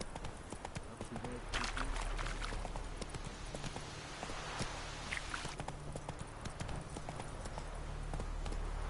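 Geralt's horse Roach from The Witcher running through Velen, steady rapid hoofbeats clip-clopping close by throughout, with a voice speaking over the galloping.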